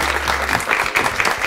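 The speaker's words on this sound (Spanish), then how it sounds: "un fuerte aplauso para Laurín." Audience at a live Spanish school show applauding, dense continuous clapping that swells and stays loud across the short stretch, close and full.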